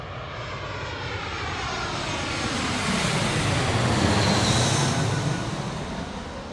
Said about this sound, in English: My only concern is that I'm under a flight path and there may be a flight noise at some stage